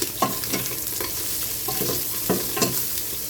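Ginger sizzling in rendered beef fat, a steady crackling fry broken by several short scraping stirs at irregular intervals, close and fairly loud.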